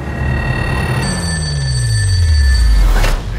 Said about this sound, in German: Das Telefon klingelt nur selten.